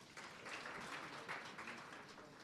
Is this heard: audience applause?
yes